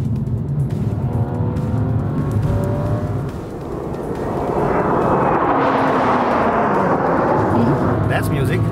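Engine note of a BMW 2 Series Coupé, a rear-wheel-drive coupé, droning steadily at first and then swelling as revs rise around the midpoint, staying loud and close to the end.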